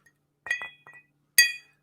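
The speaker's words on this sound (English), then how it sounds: "like the sound of the ice and the thing" Ice cubes clinking against a glass of chocolate orange whisky, three or four sharp, close chimes in quick succession with a brighter final clink, alone in a quiet room.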